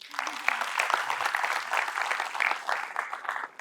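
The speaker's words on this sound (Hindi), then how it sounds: "इसीलिए ज़ैनब के लिए ताली बजा दो एक बार." An audience claps for Zainab at a lecture event, dense sustained applause from many hands throughout, close and steady, with speech faintly mixed in.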